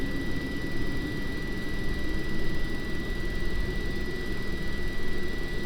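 The number 2 Olympus jet engine on an Avro Vulcan is motored by its starter and spools up, making a loud, steady roar with a constant high whine above it.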